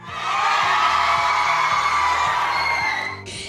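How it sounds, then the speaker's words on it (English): A large audience at a women's foundation event screams and whoops at full volume, a loud sustained roar of many voices lasting about three seconds before cutting off, with music playing underneath. "Everybody scream at the top of their lungs."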